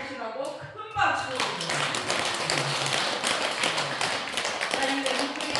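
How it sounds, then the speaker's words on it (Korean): Crowd applause at a Korean Won Buddhist Great Enlightenment Day dharma celebration, a dense sustained wash of many hands clapping from about one second onward, with a voice audible early on. "큰 박수"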